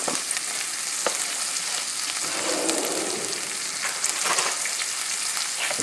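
Butter cooking gently in a pan for sausage with penne pasta, a steady soft sizzle and crackle running evenly throughout at moderate level, close by, with no talking.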